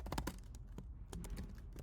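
Rapid keystrokes on a computer keyboard, with a steady run of close, crisp clicks and a few louder taps, heard alone while Twitter credentials and API keys are entered.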